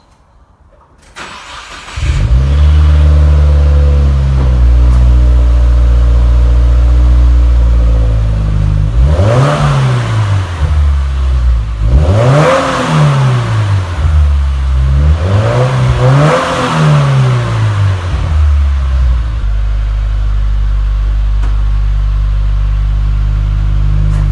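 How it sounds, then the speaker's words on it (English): A 2016 Subaru WRX engine with a Nameless axle-back exhaust starts, idles, then revs up sharply three times in a row before settling back to a steady idle, loud and close. "I'm going to do some revs and show you before"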